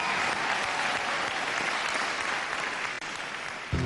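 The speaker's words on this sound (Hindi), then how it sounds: "जोरदार तालियां" Loud, steady audience applause at an awards show, a dense wash of clapping that holds evenly and cuts off near the end.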